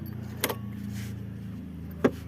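A car's engine idles with a low, steady hum close by, broken by two short clunks, one near the start and one near the end; no one speaks.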